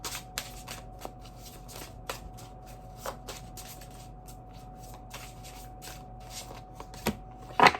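Tarot cards are shuffled by hand in a long run of soft, papery riffles and slaps, close and fairly quiet, with a few sharper card snaps along the way and a louder clatter at the end.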